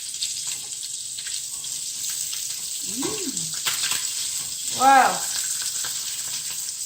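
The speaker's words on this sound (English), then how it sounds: "it's starting to sizzle a lot" Steady hiss of ribbon fish frying and sizzling in butter, with a couple of brief squeaky scraping sounds and a short exclamation from a voice.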